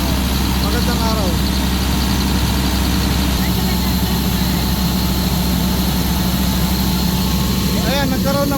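A rebuilt Caterpillar C7 diesel engine runs steadily at idle with a deep, constant low drone, while people talk over it.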